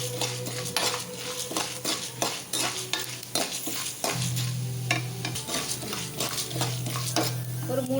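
Chana dal frying in hot oil for coconut rice, a close, continuous sizzle with frequent metallic clinks and scrapes of a spoon against the pan, and a low hum running underneath.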